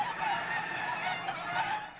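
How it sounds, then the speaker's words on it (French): Egg-laying hens in an enclosed poultry barn make a dense, continuous chorus of clucking at a moderate, even level. "Et pourquoi les poules?"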